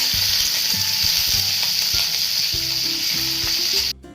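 Green chillies and curry leaves with cumin and mustard seeds crackle and sizzle steadily in hot oil, a loud continuous fry with faint utensil knocks underneath, cutting off sharply near the end.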